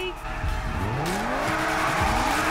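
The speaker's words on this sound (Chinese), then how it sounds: "让我听听你们的引擎的声音。" Several race car engines rev and roar together in a GTA FiveM racing game, loud and continuous, with rising and falling pitch sweeps and tire squeal mixed in, under a crowd-like background.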